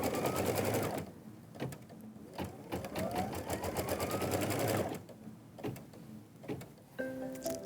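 An embroidery sewing machine stitches out a quilt block, its rapid needle chatter running steadily with brief pauses and changes in pace as the design progresses, loud and close.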